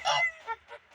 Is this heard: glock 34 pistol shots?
no